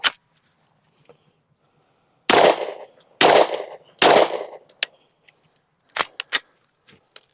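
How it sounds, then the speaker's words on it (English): Ten-shot group fired at a paper target with a red dot sight: three loud, sharp reports spaced about a second apart, then several fainter clicks and taps, with quiet gaps between and no talking. "let's shoot another 10-shot group, top left target"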